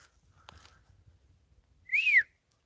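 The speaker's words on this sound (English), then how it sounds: "Another whistle." A single rising-falling whistle, like a high call, sounds once from a distance in a quiet forest, lasting about a third of a second after faint rustling.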